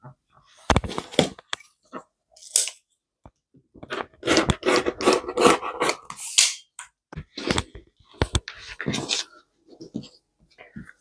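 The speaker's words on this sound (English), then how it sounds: "I'm going to cut a 3-inch strip." Scissors or a cutter slicing a 3-inch strip of quilting fabric, heard as scattered close scrapes, snips and rustles, irregular and mostly quiet with a few sharper bursts.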